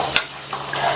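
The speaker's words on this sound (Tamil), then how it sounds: "எல்லாத்தையும் நல்லா ஒன்னா மிக்ஸ் பண்ணி விட்டுக்கலாம்" Spiced masala mixture with chopped capsicum being stirred in a pan, with a few soft scraping strokes and a light sizzle close by, separated by short quiet gaps.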